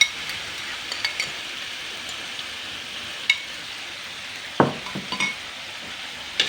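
Chicken meat frying in red spice paste in a pan, a soft steady sizzle with occasional light scrapes and clinks of a spoon against the pan.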